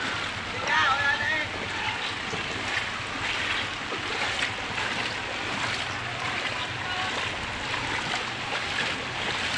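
A flooded river overflows its banks in a monsoon-driven flood, giving a continuous broadband rush of churning water close by, with a person speaking over it.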